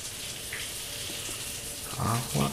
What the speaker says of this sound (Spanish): Agua que está cayendo de ahí.